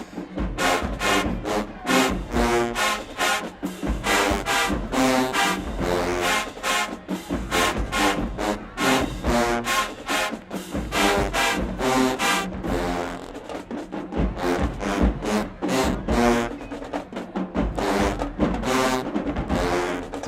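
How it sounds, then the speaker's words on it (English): Marching band trombones from Alabama State or Jackson State play a loud, full brass groove in steady rhythmic punches that repeat throughout, with no talking over the music. "Trombone."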